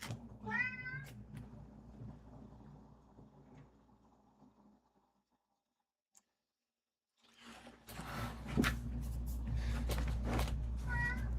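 A pet cat meows in a clear rising call at close range, with a low background hum; after a short silence, soft rustling and handling noises follow.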